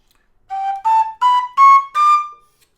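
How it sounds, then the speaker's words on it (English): Low D tin whistle playing five clean, sustained notes stepping upward from the second-octave G, each a clear bright tone separated by short gaps, close and loud with no other sound. "I'm going to start on the second octave G and walk up."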